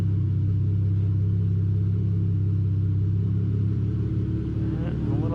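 A car rolls on dyno rollers with traction control off, wheel slightly bent, producing a steady low engine-and-roller rumble that holds even throughout, close and loud, without revving.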